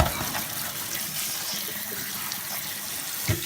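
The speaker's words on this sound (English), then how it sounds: "Let's go ahead and run some cold water on them." Cold water running from a kitchen tap over a pan of boiled potatoes, a steady, fairly quiet splashing gush with a small clunk near the end and no talking.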